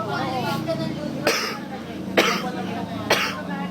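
A person coughs three times in separate, evenly spaced bursts close to the mic, with background talk and a steady hum throughout.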